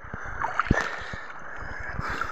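Water slaps and sloshes against a small boat at sea in irregular knocks and splashes, with wind noise underneath and faint voices.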